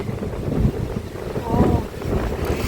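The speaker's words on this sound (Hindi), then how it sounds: "ये सुबह सुबह का टाइम है और इतनी तेज हवा चल रही है।" Strong morning wind at Janki Setu, Rishikesh, buffeting the microphone in loud, rumbling gusts that swell and ease, with river water faintly beneath and a voice briefly under the noise.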